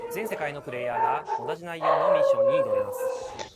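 A dog nearby gives a run of high, pitched yips and whining barks, rising and falling in quick bursts with no pause.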